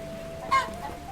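A single short chicken cluck from the video game Black Skylands, brief and clear over a steady background tone.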